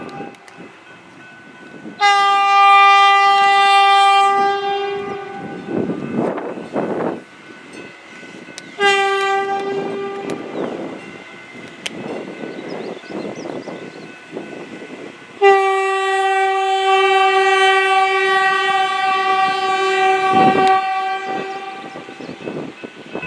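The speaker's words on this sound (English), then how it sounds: "an eastbound Texrail train making its way out of the Fort Worth area" A TEXRail passenger train rumbles past at Tower 60 in Fort Worth, Texas, with loud, sustained multi-tone horn blasts: a long one, a short one, then another long blast over the rolling rail noise.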